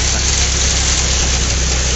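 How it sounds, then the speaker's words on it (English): An Allis Chalmers tractor engine running in a barnyard, a steady close, loud low drone with constant rumble and no break. "Can you believe that's his first time driving a tractor?"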